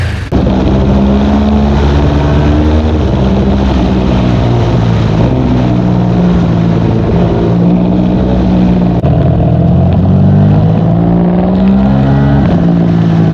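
A 2022 Ducati Streetfighter V2 motorcycle engine runs loud and close for the whole stretch, its tone rising and falling as the revs shift, with no talk over it.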